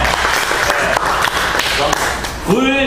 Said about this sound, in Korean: 박수를 안 드릴 수가 없네요